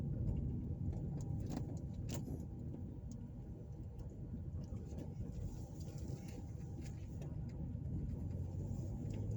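A car drives slowly through residential streets in a housing community in Evansville, Indiana, giving a steady low road and engine rumble from inside the vehicle, with faint ticks and rattles on top.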